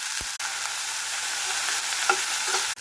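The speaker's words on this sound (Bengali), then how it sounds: "এখন আমি এর মধ্যে আলু, গাজর, ক্যাপসিকাম আর বাঁধাকপি একদম পাতলা পাতলা করে কেটেছি, এটা এর মধ্যে দিয়ে একটু ভাজা ভাজা করে নেব।" Thinly sliced potato, carrot, capsicum and cabbage fry in hot oil over high heat for a vermicelli dish, giving a steady, close sizzle with a few brief stirring knocks.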